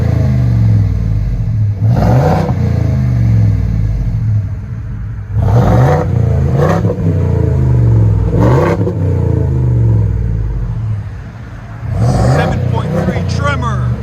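The gas 7.3-litre V8 of a 2021 Ford F-350 Tremor pickup with a Black Widow Widowmaker exhaust and 6-inch tip revs hard again and again, a deep throaty roar swelling and easing in repeated bursts, loud and close.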